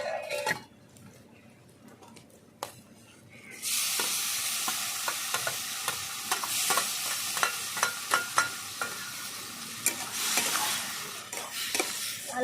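Kohlrabi pieces stirred into browned fried onions in a pan: after a few quiet seconds, a steady close sizzle sets in, punctuated by irregular scraping clicks of the spatula against the pan.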